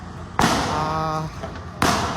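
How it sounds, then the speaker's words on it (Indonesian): Firecracker blasts aimed at police during a riot under the Slipi flyover, with molotov cocktails thrown: two loud, sharp bangs about 1.4 seconds apart, each followed by a sustained crackling, hissing burst that fills the space between them. "ini petasan kembali ditembakkan ke arah aparat kepolisian"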